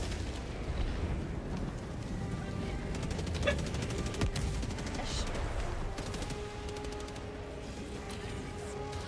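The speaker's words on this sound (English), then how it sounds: "Warning, you are in range of enemy artillery." Enemy artillery fire in Helldivers 2 produces a continuous, heavy barrage of booms and crackling blasts layered over rumbling battle noise, loud and unbroken throughout.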